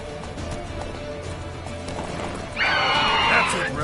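Roach, a horse in The Witcher 3, gives a loud, bright whinny in the last second and a half, following a steady stretch of clip-clopping hooves under a low rumble of game ambience.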